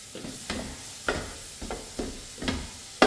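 Shrimp heads and vegetables fry in a pot during a Ramadan meal preparation. About six soft scraping stirs come at a steady pace over a low, close sizzle, with no talking.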